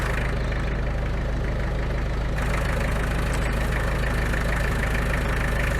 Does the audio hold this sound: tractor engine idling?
yes